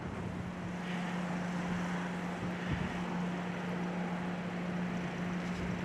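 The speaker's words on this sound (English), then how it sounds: "it's super windy" Strong wind buffets the microphone outdoors beside an old Snapper 28-inch 12.5 HP riding mower, a steady loud roar with a low hum underneath and no speech.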